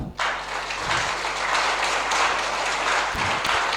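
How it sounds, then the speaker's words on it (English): At a provincial capital markets debate, the audience gives a big hand, a loud, even sheet of crowd clapping that runs throughout, over a faint steady hum. "A big hand for the man."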